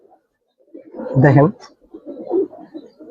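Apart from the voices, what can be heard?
Giribaz Silver pigeons cooing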